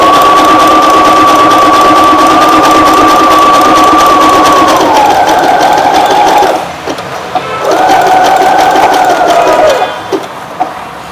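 A Fashion Maker sewing machine fitted with a pico foot stitches a rolled hem, giving a loud, steady mechanical hum that stops briefly, then starts again for a second, shorter run.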